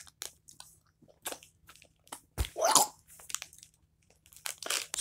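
Crunchy graham cracker snacks bitten and chewed close to the mic, a few sharp crunches in short bursts with a louder crunch midway, no talk.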